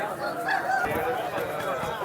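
A ten-month-old rooster at a Sunday rooster market in Vijayawada gives a brief, high call amid a noisy crowd, with people talking in the background.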